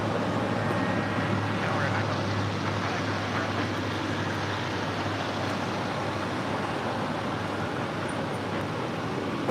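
An airliner in from Shanghai taxis across a runway at LAX, heard as a steady distant jet engine roar under a broad airport rumble, with a voice talking over it.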